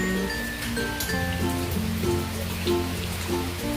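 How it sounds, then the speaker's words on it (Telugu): Heavy rain pours down outside during a thunderstorm, making a steady patter of drops on surfaces at moderate volume, with faint tonal background sounds mixed in. "మొత్తం వర్షం పడుతుంది ఫుల్గా, చాలా హెవీగా ఉంది రెయిన్ ఈరోజు."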